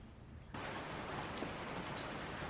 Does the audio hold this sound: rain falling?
yes